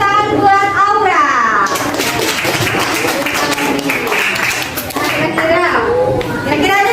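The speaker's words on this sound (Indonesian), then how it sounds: "tepuk tangan buat Aura" Students in an Indonesian classroom clap for a classmate, a burst of group applause rising partway through under a woman teacher's ongoing talk.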